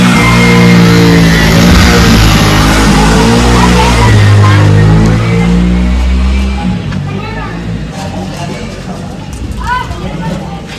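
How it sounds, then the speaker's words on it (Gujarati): In a Kathiyawadi village, an elderly man drives off in a vehicle. A loud, close engine roars, then gradually fades as it pulls away. "દાદા ગાડી લઈને ઉપડાય અત્યારે"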